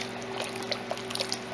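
Water pours steadily into a pot of lentil and barley soup, a soft trickling splash with light bubbling over a faint hum, quiet and close.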